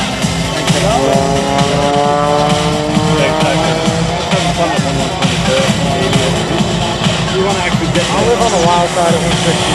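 An aerobatic propeller plane, flown by Mike Wiskus at the 2021 New York International Air Show, roars overhead with a loud, continuously rising and falling engine drone. An announcer talks over the engine throughout.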